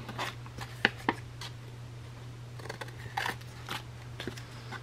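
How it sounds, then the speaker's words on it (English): Scissors snip the corners off handmade paper tags, giving a series of crisp, close cuts at an irregular pace over a steady low hum. "let's cut off our corners."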